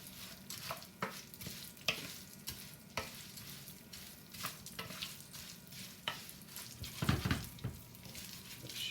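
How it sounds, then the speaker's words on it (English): Fideo pasta browns lightly in a hot pan, giving a soft sizzle broken by repeated scraping stirs and clatters, with a louder burst of clatter near the end; no talk. "But I want to just brown my pasta lightly, okay?"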